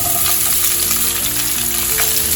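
Onions being fried with cashews in a pan for shahi paneer, a loud, close, continuous sizzle with crackling and a faint steady hum underneath.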